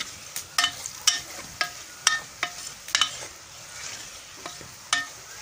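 Spice masala with turmeric powder cooks in a pan for a Pahadi-style potato and pea curry, sizzling softly beneath repeated sharp clinks and scrapes of a spoon stirring against the pan.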